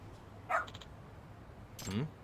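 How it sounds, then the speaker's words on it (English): A Shiba dog in the video game Lost Judgment gives two short barks about a second and a half apart, moderately close over a quiet background. "What's up with this dog?"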